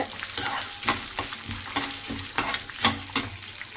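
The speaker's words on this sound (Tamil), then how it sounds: "இது நல்லா பொரியட்டும்" Pirandai, the adamant creeper, frying in oil for chutney, with crisp sizzling under a series of regular scraping stirs roughly every half second, close and fairly loud with no speech.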